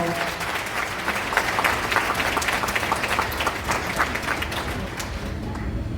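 Guests at a wedding hall ceremony in the Modeni Hall clap together after the groom's vows, a dense, loud and continuous round of applause, with faint voices mixed in beneath it.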